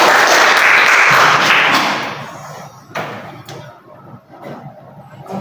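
A classroom of students bursts into loud clapping for about two seconds, then the applause fades quickly into scattered thumps and quieter room noise.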